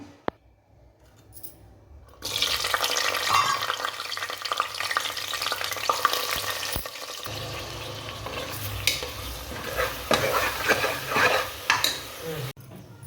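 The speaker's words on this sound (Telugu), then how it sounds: "ఇప్పుడు హీట్ ఎక్కిన తర్వాత ఒక 9 పచ్చిమిర్చి, మనం మిక్సీ పట్టుకున్న అల్లం ముద్దను కూడా, ఉల్లి ముద్దను కూడా ఇందులో యాడ్ చేసేసుకుందాం" Green chillies with ground ginger and onion paste hit hot oil in a pressure cooker for goat head curry, bursting into a loud, sustained frying sizzle with metal spoon stirring and scraping against the pan.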